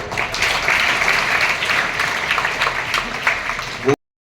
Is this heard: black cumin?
no